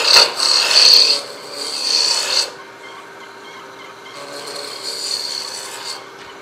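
A tool rounding over a wooden piece, likely on a lathe, makes a close, rough rasping scrape in two bursts over the first couple of seconds, then settles into a fainter, steady rubbing hiss.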